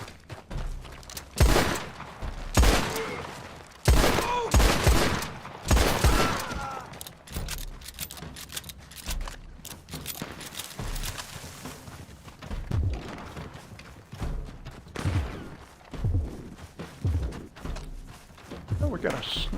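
Sniper gunfire in a live-streamed video game, repeated sharp shots and bursts cracking at irregular intervals, some loud and close, others fainter, over game ambience with a player talking throughout.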